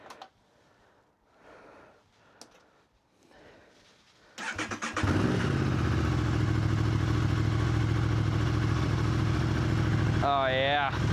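An Aprilia RS660 motorcycle with a full Arrow titanium exhaust, baffle still fitted, fires up for the first time: quiet speech and handling noises, then the starter churns and the engine catches into a loud, steady close idle with a brief blip near the end.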